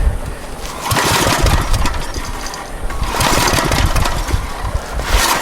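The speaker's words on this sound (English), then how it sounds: "Your recoil on this sometimes doesn't catch." A small engine on an abandoned Generac generator being cranked with its recoil starter, giving repeated rough, loud sputtering pulls in two bursts that fail to catch and run.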